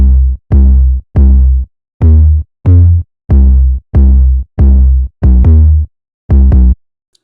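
Second 808 bass pattern in a type beat, with loud, sustained, distorted bass notes at varying pitches in a catchy rhythmic sequence, unlayered with kicks and alone.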